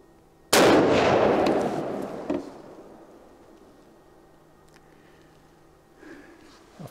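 A single loud gunshot from a Model 70 Winchester rifle firing a .270 Winchester handload outdoors, a sharp close blast that rolls off into a long fading echo, followed by faint small handling noises.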